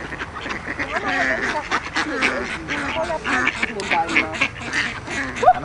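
Ducks quack and squabble close by while being fed bread, their calls overlapping in a busy, uneven stream under people chatting nearby.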